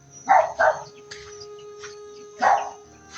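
A dog barks three times at medium distance, two quick barks then a third after a pause, over a faint steady hum.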